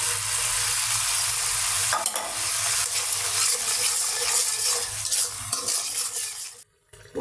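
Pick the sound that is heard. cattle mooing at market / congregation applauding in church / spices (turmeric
spices (turmeric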